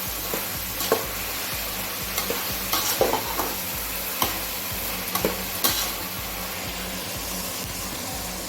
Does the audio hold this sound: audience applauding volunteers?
no